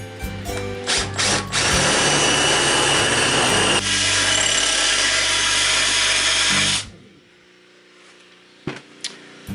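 A power drill fitted with a 3/8 inch bit bores holes into wood, a loud sustained whine lasting about seven seconds, dipping in pitch midway, then cutting off to quiet room tone with a couple of small clicks.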